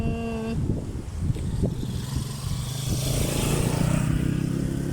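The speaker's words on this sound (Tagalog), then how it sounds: "may mga bahay dun sa unahan kaya may dumaan na motor." Motorcycle engine drones past at a moderate distance near houses in view of Mayon Volcano, a steady hum that rises slightly toward the end, with a brief voice at the start.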